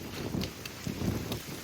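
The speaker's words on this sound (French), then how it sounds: "il y a du vent" Wind gusts outdoors in Sydney buffet the microphone with low rumbling bursts and steady hiss, loud and close, pulsing a few times over the short stretch with no one talking.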